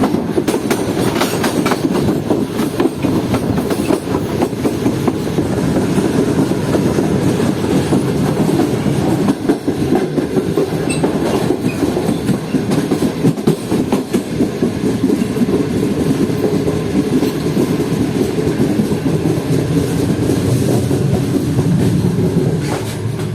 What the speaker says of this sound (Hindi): ये खाली इंजन था, यानी कि लाइट पावर था